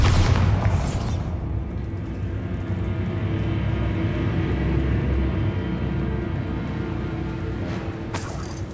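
A Bombarda spell explodes in Hogwarts Legacy as a loud, close boom at the start that settles into a long, low rumbling tail before a second burst near the end.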